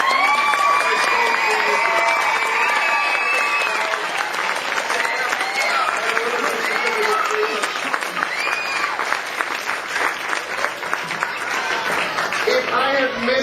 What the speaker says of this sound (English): Give them all applause.